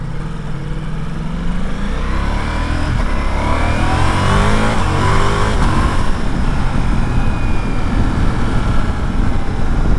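A 2021 Ducati Multistrada V4 S on a road test ride, engine accelerating and revving through the gears with steady rushing wind noise, loud and sustained throughout without talk.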